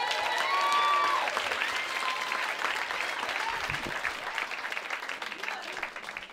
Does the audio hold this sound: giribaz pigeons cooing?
no